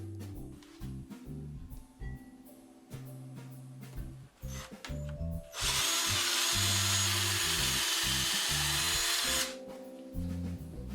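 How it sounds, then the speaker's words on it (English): A power drill bores pilot holes in wood. A whining motor rises and falls in short bursts, then a sustained, louder drilling run lasts about four seconds before it drops back to intermittent whirring. "I drilled some pilot holes so the screws hopefully won't split out the wood"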